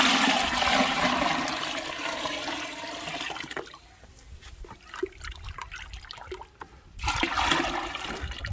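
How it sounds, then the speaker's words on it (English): Thick traditional meru porridge liquid pours and splashes into a big bucket, a loud gushing stream that thins to intermittent trickles and drips, then swells again near the end. "So we'll pour this in here to the big bucket."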